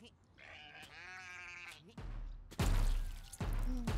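Sheep bleating in the Just Die Already video game, a wavering harmonic bleat in the opening seconds followed by loud thumps and blasts as a sheep sets off mines, with players talking over it.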